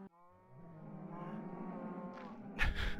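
A Minecraft cow lets out one long, nasal moo, fairly close, ending in a burst of game noise, with no talking.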